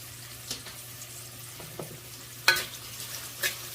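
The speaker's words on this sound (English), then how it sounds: "To this oil, I'm going to add onions. About 3 to 4 green chilies. And a little bit of curry leaves." Onions, green chilies and curry leaves fry in hot oil with a soft steady sizzle, broken by a few sharp crackles and utensil taps, the loudest burst coming midway through.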